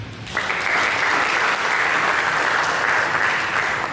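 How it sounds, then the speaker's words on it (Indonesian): Audience applause fills a church service, a dense, steady wash of many hands clapping that starts abruptly and holds loud and even, with no talking over it. "Berikan tepuk tangan."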